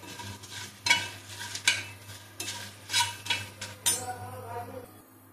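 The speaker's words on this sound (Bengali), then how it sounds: "প্রথমে মরিচগুলো আমরা তালে নিচ্ছি।" Green chillies frying and being stirred in hot oil in a pan, the first step of a sweet, sour and spicy raw mango pickle, with rhythmic scraping stirs and light sizzling repeated at a steady pace.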